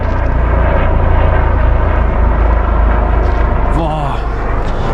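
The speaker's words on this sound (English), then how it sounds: "Watch, the helicopter flies in." A helicopter flies in with a loud, steady broadband roar that stays close and dominant throughout, shifting slightly in tone toward the end.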